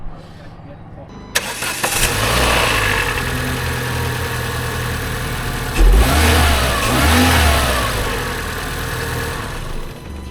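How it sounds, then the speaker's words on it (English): A Renault Clio Sport 197 engine cranks and fires after a quiet start, settles into a loud steady idle, then revs up sharply twice before dropping back to idle. "Give this car a start and let's go."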